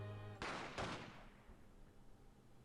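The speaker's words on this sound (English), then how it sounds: "2 shots fired." Two sharp gunshots in The Great Ace Attorney ring out close together, less than half a second apart, after a quiet musical backdrop, then fade into a lingering echo.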